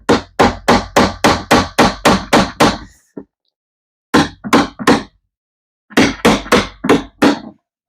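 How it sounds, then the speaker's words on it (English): A hammer drives nails in quick, even bursts: about nine sharp blows, a pause, four more, then another run of six, close and loud. "I might have to go get my smaller hammer"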